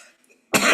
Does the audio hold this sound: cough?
yes